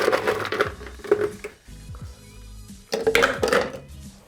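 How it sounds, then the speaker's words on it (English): Ice being thrown into a cocktail container, with loud clattering bursts of cubes hitting and knocking together, a quieter gap in the middle, then another rattling burst near the end. "And we're gonna throw some ice in our container here."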